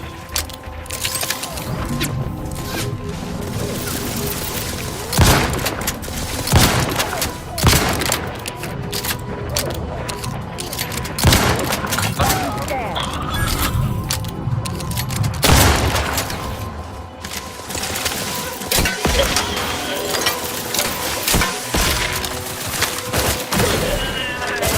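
Gunfire and explosions in the video game The Outer Worlds 2, dense volleys of shots punctuated by heavy booming blasts throughout, loud and continuous with mechanical clanks.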